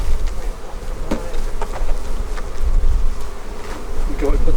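Honey bees swarm and buzz loudly and steadily, close by, as they are dumped from a nuc box into a new hive, with faint knocks from the equipment under the hum.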